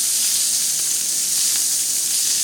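Beef and mushrooms on a Korean BBQ grill give off a steady, even, close sizzle, a constant frying hiss with faint crackle and no pauses.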